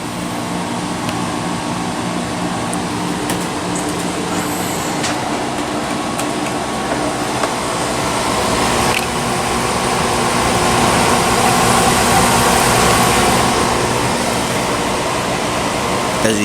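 A Danby/Idylis portable air conditioner runs with a steady, broadband whooshing hum from its fan and compressor, close and continuous, swelling slightly partway through.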